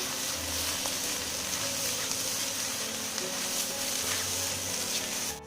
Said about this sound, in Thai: ใส่เห็ดนางฟ้าลงไปรวนให้สุกนะครับ